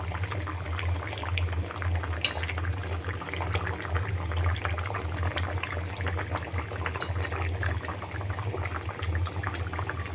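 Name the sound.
tilapia fish curry with potato and tomato simmering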